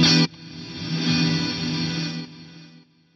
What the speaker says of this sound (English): that is such a cool panning, reverby delay thing on there